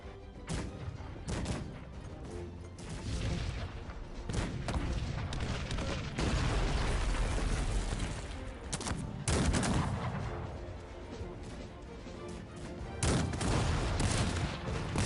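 Artillery and musket volleys from the Cossacks strategy game: repeated gunfire bursts and heavy booms, some overlapping in rolling fusillades, loud and continuous with brief pauses between clusters.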